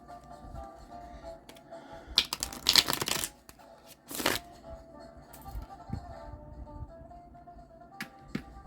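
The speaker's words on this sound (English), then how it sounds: "I'm going to shuffle this deck one more time." A deck of cards being shuffled during a card reading, with riffling bursts of crisp fluttering paper and quieter handling sounds between them, close and alone.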